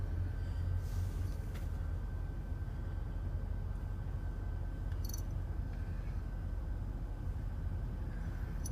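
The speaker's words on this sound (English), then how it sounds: "There's another train coming." A single locomotive approaching on railway tracks, a steady low rumble that holds evenly throughout, with faint higher squeaks and clanks near the middle; no talk.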